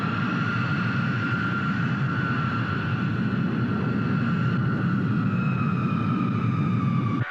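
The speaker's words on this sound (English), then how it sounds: "you're cleared to taxi Bravo to runway 24 and hold" An aircraft taxis toward the runway with a steady, loud engine roar and a jet whine that holds evenly throughout, with no talking over it.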